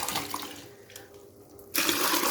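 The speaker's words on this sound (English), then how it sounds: "you pour water first into your mixing containers before pouring in your chemicals" Water pours into a mixing container for making multipurpose liquid soap, a broadband rushing flow that runs steadily, eases off midway, then surges back louder near the end, with no voices.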